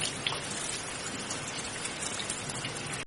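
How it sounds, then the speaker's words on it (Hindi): Heavy rain at midnight pours steadily in a dense, continuous hiss of drops with no let-up, fairly faint and alone without any voices. "आधी रात को बारिश और तेज हो गई"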